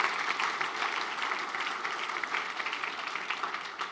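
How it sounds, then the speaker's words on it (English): Sustained applause from an audience at a city's State of the City address, a dense, steady wash of many hands clapping at moderate distance for about four seconds with no voices on top. "let's give them a round of applause"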